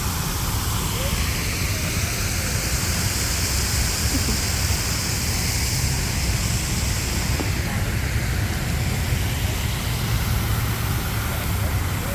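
Loud, continuous rushing and splashing of an outdoor fountain in Chicago, a dense wash of water noise filling the scene, with voices faintly underneath.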